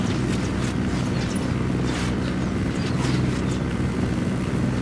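A helicopter in the video game Ghost Recon Wildlands: its throbbing rotor drones steadily, loud and close, with a pulsing low hum that holds for several seconds.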